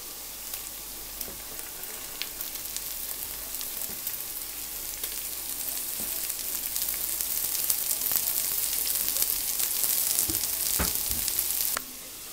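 Carrots and celery sizzle with sweated onions in a cast-iron potjie pot on a Cobb barbecue, a steady close frying hiss with scattered pops and crackles throughout, fading out at the very end.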